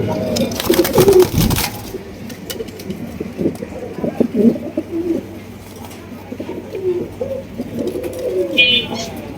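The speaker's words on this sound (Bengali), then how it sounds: "এখানে কিন্তু রেড কালারের একজোড়া ভাই কিং কবুতর" A pair of red king pigeons coo in low, repeated throaty bursts at close range, with a burst of handling noise at the start and a brief high chirp near the end.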